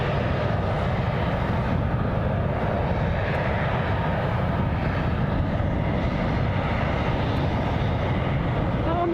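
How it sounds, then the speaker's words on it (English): Steady roar of a Grob Tutor light aircraft flying at Glasgow Airport, a continuous broadband engine drone that holds loud and even throughout with no voices. "that looks like that might be a Grob tutor"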